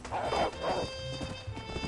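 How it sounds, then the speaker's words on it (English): A horse in the video game Red Dead Redemption snorts and whinnies with a few hoof clops; the sounds are faint and brief. "Why is the horse flaking out?"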